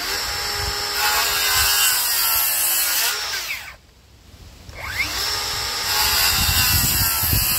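A circular saw cuts kerfs into wood in loud, sustained runs with a steady whine. It briefly drops away to near quiet in the middle, then spins back up and keeps cutting.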